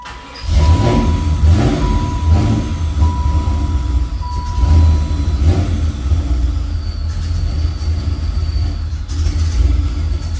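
A loud engine idles roughly under throttle, its low droning rumble steady and continuous with slight surges, running close to stalling.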